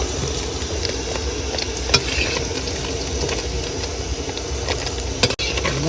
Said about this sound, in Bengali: তাহলে মাছ ভাজা হয়ে গেছে এবার মাছ ভাজা